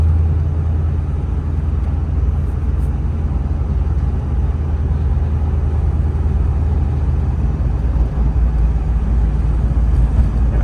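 Steady low rumble of a 1938 Chevrolet Master Town Sedan hot rod cruising in fourth gear at about 20 mph, heard from inside the cabin as a continuous even drone with no talk over it.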